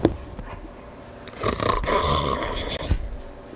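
A small dog snorts and grunts up close like a piglet, with a sharp opening snort followed by a rough, sustained snuffling rumble and another snort near the end.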